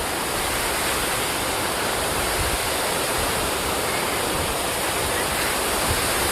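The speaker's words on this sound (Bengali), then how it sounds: "আমি এখন যমুনা ওয়াটারফলস রাঁচিতে এসেছি।" Jamuna waterfall in Ranchi roars as a loud, continuous wash of falling water, steady and close, with no voices.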